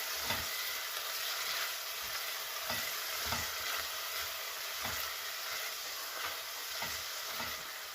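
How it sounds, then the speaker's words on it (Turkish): Onions or other ingredients sautéed in a pan for a Turkish okra dish sizzle with a loud, steady hiss, and a spoon stirs through them in a regular scraping rhythm. "Güzelce kavuruyoruz."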